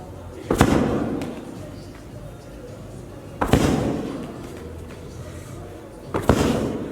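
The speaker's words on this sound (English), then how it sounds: "then the other upper body one is our ball slams" Three heavy medicine ball slams in an upper body training session before a game, each a sharp loud thud followed by a brief rebound, spaced about three seconds apart, close by.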